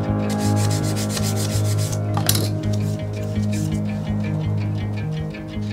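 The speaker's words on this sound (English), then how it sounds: "Now we're gonna sand it." A wooden mackerel glidebait fishing lure is sanded by hand, with rhythmic close rubbing strokes and rasping scratches repeating steadily, without speech.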